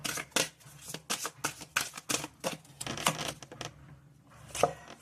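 Tarot cards being shuffled and drawn by hand, a quick run of crisp papery riffles and flicks in close succession, then a pause and one last snap near the end; no talking.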